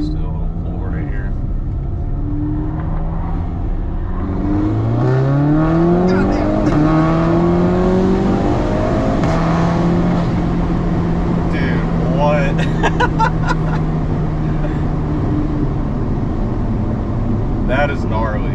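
A 2022 Audi S3 8Y with its air filter removed revs hard and loud, engine pitch climbing and falling in sweeping rises while the turbo spools and whooshes, with people talking and exclaiming over the steady roar.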